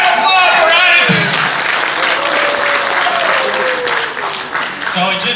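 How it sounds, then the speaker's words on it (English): A crowd of event attendees applauds steadily and loudly throughout, with a voice speaking over the clapping and a sustained tonal sweep running underneath. "Have an applause for attitude!"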